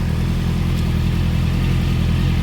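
A Honda CBR 650F motorcycle with a Two Brothers exhaust runs close by, its engine giving a loud, steady, deep drone with no clear rise or fall in pitch.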